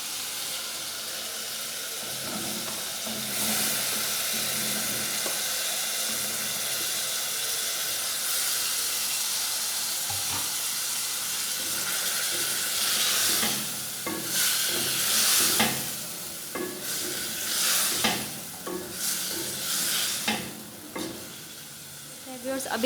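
Spices fry with boiled chickpeas in a pan for chana pulao. A steady hiss of sizzling runs throughout, and utensil scraping and clattering grow louder and more frequent toward the end.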